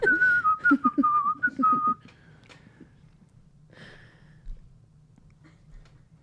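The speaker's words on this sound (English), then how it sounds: "you were just whistling throughout" A person whistles a bright, wavering melodic line for about two seconds, clear and close, followed by quieter room noise, a brief breathy sound and faint low rumble.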